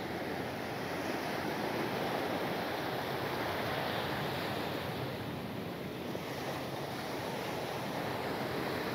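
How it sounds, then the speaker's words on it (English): Steady, loud surf from ocean waves rolling onto Manchebo Beach, Aruba, a continuous wash with heavy wind noise buffeting the microphone throughout and no talk. "that means that the waves on this side are not as high"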